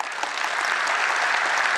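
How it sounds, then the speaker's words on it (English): An audience at a tech conference keynote applauds, a dense, steady wash of clapping from many hands, loud and continuous. "Let's give a huge round of applause"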